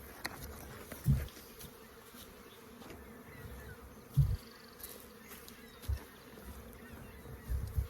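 A low, steady honey bee buzz hums throughout at a hive being opened for the season, with a few louder thumps breaking in now and then; quiet and outdoors, with no voices.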